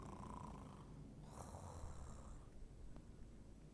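A toy bear gives off a very faint, low snoring, a slow breathy rumble heard alone in a quiet room.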